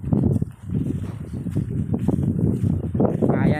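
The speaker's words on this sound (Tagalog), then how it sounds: "ang lakas na ng hangin" Strong wind over a mountaintop near the sea at Paracale buffets the microphone in a steady low roar with gusty surges throughout, loud and close.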